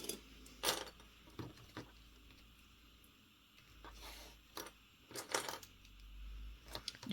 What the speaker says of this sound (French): Et ensuite nous allons épingler.